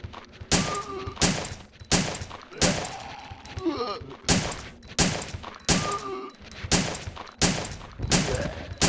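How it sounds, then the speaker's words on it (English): Repeated gunfire in the Resident Evil 3: Nemesis video game: about a dozen loud, evenly spaced shots roughly every 0.7 seconds, with brief game sound effects between a few of them. "Keep firing!"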